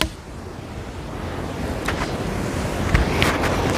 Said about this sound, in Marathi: हा समुद्र